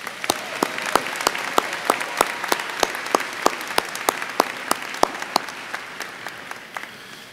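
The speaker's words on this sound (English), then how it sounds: "Let's give this class a quick round of applause." Audience applause for a graduating high school class at a graduation ceremony, with many hands clapping steadily in a room and a few sharp, distinct claps standing out in a regular rhythm throughout.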